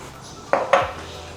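A spoon knocks twice against a cooking pot while chicken sopas is stirred, giving two bright metallic clinks close by over a low background hum.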